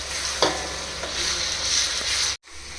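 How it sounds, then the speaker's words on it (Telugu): Ginger garlic paste fries in a kadai, a loud, close, steady sizzle with a few stirring scrapes before it cuts off abruptly near the end. "అల్లం వెల్లుల్లిపాయ పేస్ట్ కూడా ఫ్రై అయిపోయింది"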